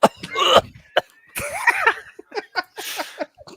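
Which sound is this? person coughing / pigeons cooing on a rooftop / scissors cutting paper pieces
person coughing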